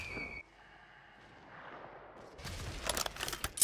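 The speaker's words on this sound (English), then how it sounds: "Oh shit, he getting sniped at too." Sniper gunfire in a video game crackles in a burst of sharp shots near the end, following a quieter stretch, moderately loud with no talk.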